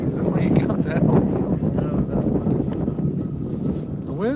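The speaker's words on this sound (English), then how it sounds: "It was a little windy, but you guys know how it is." Wind gusts buffet the microphone outdoors on a fishing trip, a rough low rumble that swells and fades, with voices talking faintly underneath.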